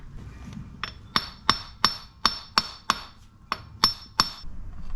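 A hammer taps a drive shaft into place on a 2005 Ford Focus, ten sharp metallic strikes in a steady rhythm, close and loud, ringing briefly after each blow.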